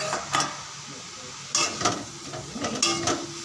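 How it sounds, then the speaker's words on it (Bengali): Water spinach (kalmi shak) fries in a pan in a home kitchen, giving a steady soft sizzle broken by several sharp scraping stirs, close and moderately loud, with no talking. "আর এদিকে কলমি শাক ভাজা বসিয়েছি।"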